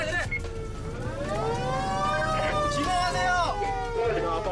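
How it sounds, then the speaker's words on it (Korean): A wailing siren from a 119 fire engine responding to a house fire rises and falls loudly over street noise and murmuring voices in a narrow alley. "사이렌을 울리며 화재 현장으로 긴급 출동하는 119 소방차가"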